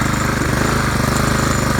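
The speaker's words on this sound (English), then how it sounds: "Not running as well as it should, but at least it's running." A Honda engine fitted to a Craftsman weed trimmer runs loud and close with a steady, rapid pulsing chug, sounding slightly rough.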